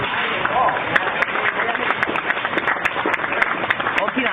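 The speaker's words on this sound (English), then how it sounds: "let's get a round of applause for Holly" An audience at the Chihuly Garden and Glass hot shop in Seattle claps for a glassblower after a live demonstration, scattered crisp claps over a busy roomful of murmuring voices, with a few sharper individual claps standing out.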